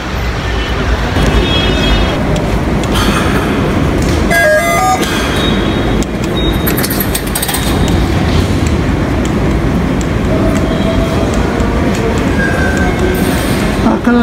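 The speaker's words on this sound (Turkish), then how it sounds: "Öyle gidiyor tren." The historic Tünel funicular train running at Karaköy station in Istanbul makes a loud, continuous rumble of rail and carriage with metallic squeals and rattles. A voice can be heard under the din.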